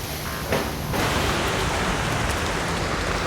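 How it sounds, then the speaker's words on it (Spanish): Light rain drizzle falls outdoors in a windy natural setting where macaws fly, a steady broadband hiss of fine drops that thickens after the first second, with no talk. "ya están cayendo algunas lloviznas"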